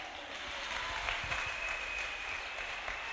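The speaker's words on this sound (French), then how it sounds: "You are clapping as if you have not understood her testimony" A church audience applauds at a healing testimony service, steady sustained clapping from a crowd in a large room, moderately distant and even throughout.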